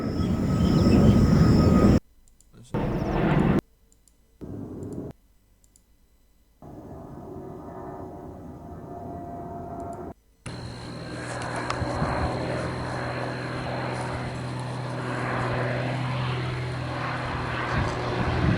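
Propeller airplane from a 3D animation playback, a steady broadband engine drone that fills the second half loudly and continuously after a run of choppy, cut-off bursts and gaps.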